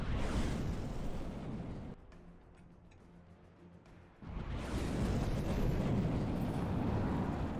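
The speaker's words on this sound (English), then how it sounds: "Love how some missiles just go crazy off to the side." Missiles launch and detonate in the vehicle-combat game From the Depths, where fighter-bombers fight a fleet: a loud, dense rumbling roar of blasts that drops away for about two seconds, then returns full and sustained.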